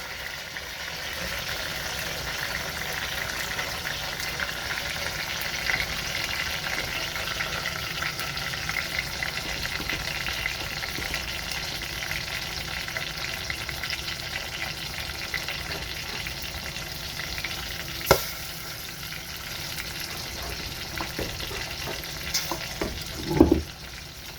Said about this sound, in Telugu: ఇలా పచ్చిమిర్చి, ఉల్లిపాయలు ఒక 2-3 నిమిషాలు వేపిన తర్వాత